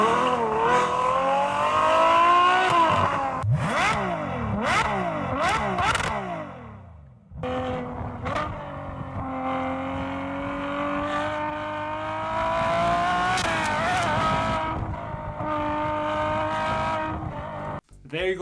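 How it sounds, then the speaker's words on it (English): A widebody Ferrari 458 screams through a canyon, its engine climbing and dropping through quick gear changes with sharp revs, a brief lull, then another long high-pitched pull fading as it passes. "I think the Ferrari sounds the best flying through the canyons here"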